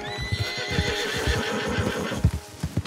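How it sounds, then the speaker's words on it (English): Several horses in Red Dead Redemption 2 whinny and neigh in a long, quavering call that carries over the scene. Hoof clip-clops and soft thuds break in irregularly underneath, close and fairly loud. "lots of horses here."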